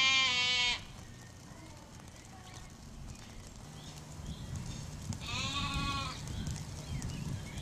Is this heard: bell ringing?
no